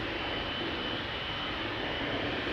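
A 20-year-old KLM Boeing 777-200 departing Amsterdam Schiphol for Minneapolis, its jet engines giving a loud, dense, continuous roar with a hissing upper edge and no pause.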